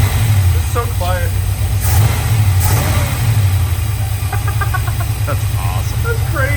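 A square body truck with an LS engine swap runs loud and steady at close range, its deep idle rising in a few revs while people talk over it.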